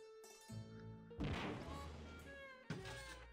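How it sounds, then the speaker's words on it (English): A bomb destroyed by a detonator in the video game Grim Fandango, heard as a few dull thumps followed by a crashing burst that decays, then another short thud near the end, with no talk. "It was completely destroyed by our own detonator"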